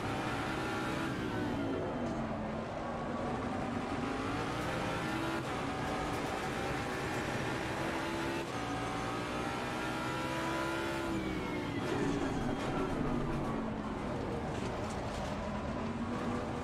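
GT race car engines in Assetto Corsa Competizione, a steady loud engine drone with rising and falling pitch through gear changes and acceleration, continuous with no talk.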